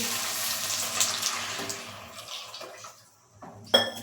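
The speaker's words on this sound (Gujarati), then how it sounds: "હવે આપણે આમાં ગરમ પાણી એડ કરીશું ઠંડુ પાણી એડ કરવાનું નથી" Hot water streams into a pot of rice for jeera rice in a steady, gushing pour that tapers off and falls quiet, followed by a single sharp metallic clank.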